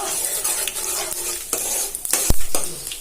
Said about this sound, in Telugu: తాలింపు గింజలు వేగిపోయాయి